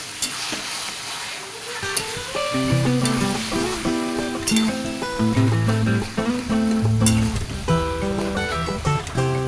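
Foraged wild greens stir-fried with ground cumin in a pan give a steady, close sizzle with stirring throughout, set under continuous background music.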